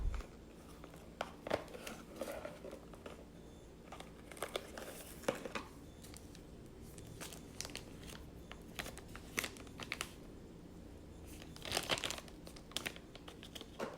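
iPhone XS packaging is handled and unwrapped, producing intermittent crinkling and tearing of plastic wrap in close, sharp bursts against a quiet background.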